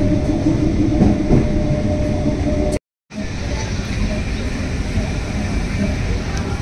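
A Gaghat local train on the Howrah to Kamarpukur run rumbles loudly and continuously from inside the carriage, with steady rail noise and a brief dropout partway through.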